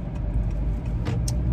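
A car passing on a road while another vehicle waits to turn, a steady low engine and tire rumble close by for a brief moment, with no talk.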